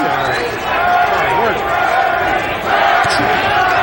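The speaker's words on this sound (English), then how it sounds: "Crowd once again chanting for Donald Curry." A boxing crowd chants for Donald Curry at his fight with Terry Norris, a loud, dense, continuous roar filling the arena, with a commentator's voice running over it.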